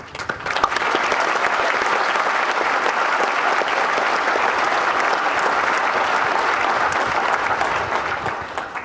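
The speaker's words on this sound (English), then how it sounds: "You deserve the final applause" Loud, sustained applause from a large commencement audience at a community college graduation ceremony, a dense, even roar of clapping that holds steady for several seconds before tapering slightly at the end.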